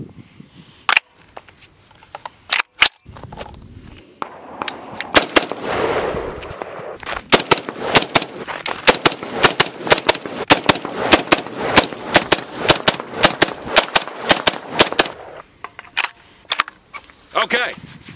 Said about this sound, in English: Let's fire some rounds.